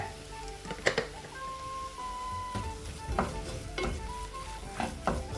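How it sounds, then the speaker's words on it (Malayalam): Kerala-style masala sautéing in a little oil in a pan, with a steady sizzle under several scraping spatula strokes spaced through the stretch. "മസാല കരിയാതെ നന്നായിട്ട് വഴറ്റിയെടുക്കുക."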